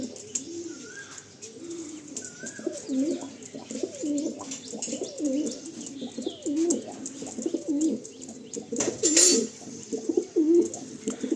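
Pigeons coo repeatedly in a loft in Behala, low throaty calls rolling in overlapping bursts with occasional chirps and a brief flutter of wings, fairly close and steady throughout.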